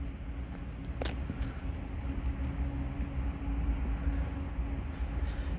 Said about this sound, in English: we should have ourselves any moment a CSX I138 intermodal coming right around the bend